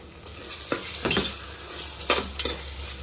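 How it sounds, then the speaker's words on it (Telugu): Masala with turmeric is stirred and fried in a pan for chicken dum biryani, giving a steady close sizzle broken by several scraping stirs of a spoon against the pan. "పసుపు అయితే వేసుకున్నాక బాగా కలిపేసుకున్నాము"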